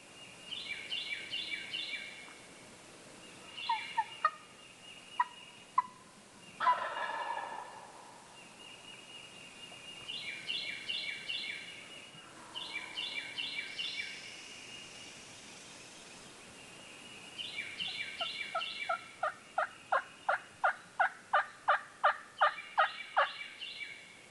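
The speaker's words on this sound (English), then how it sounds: "We've heard some turkeys gobble over on the western part of the county." Wild turkeys gobble repeatedly in the countryside of a Mississippi county, distant rattling bursts recurring across open morning air, with a long rapid series near the end and no voices.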